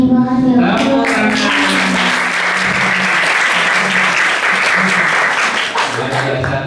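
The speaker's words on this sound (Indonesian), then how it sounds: "Tepuk tangan." A seated crowd of students at an Islamic boarding school bursts into loud, dense clapping that holds steady for several seconds, with a brief voice at the start before the applause takes over.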